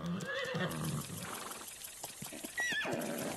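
A horse in the video game ARK gives a short, bright whinny, rising and falling, followed by another brief neigh near the end, with faint game ambience underneath.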